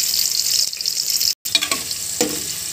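Garlic and onion frying in cooking oil for pork caldereta, a bright hissing sizzle that breaks off briefly in the middle, then returns with stirring clatter and a sharp spitting burst near the end.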